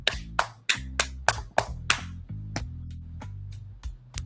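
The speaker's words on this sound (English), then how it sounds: "Give it applause. Applause." A short burst of hand clapping, about a dozen sharp claps in an uneven rhythm, close and fairly loud, with a low tonal hum underneath and no talk.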